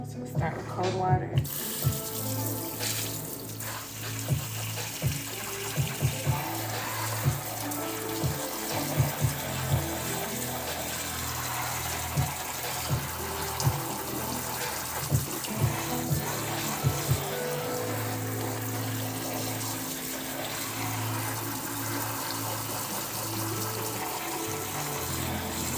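Cold tap water runs steadily into a sink for rinsing excess indigo and coppery orange dye out of tie-dyed fabric, with a continuous moderate splashing hiss and occasional thumps from handling the wet cloth.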